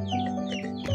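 Chickens clucking close by in short, soft bursts over a faint background hum, lasting about a second with no talk.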